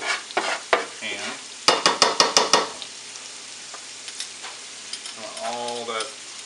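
A frying pan is scraped clean of browned chicken drippings after cooking, with a quick series of sharp rhythmic scrapes near the mic among scattered clatter, then a short tonal squeak at the end.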